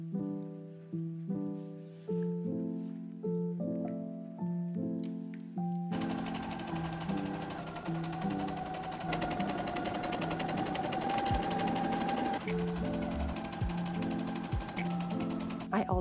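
A sewing machine gathers one very long ruffle for a classic apron dress, its needle running in steady rapid bursts that turn into continuous close stitching with faint background noise and no talk.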